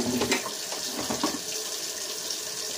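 Water rushes steadily out of the spigot of a Keurig K-Select coffee maker during a rinse, a close, even hissing flow with a few splashy bursts near the start.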